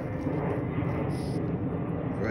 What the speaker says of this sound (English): I don't know if you guys can hear me with this plane